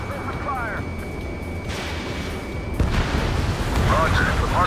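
Support team opening fire in the Ace Combat 7 mission Battle for Farbanti: a dense, continuous battlefield rumble that jumps to a louder, heavier barrage partway through, with thin jet whines above it.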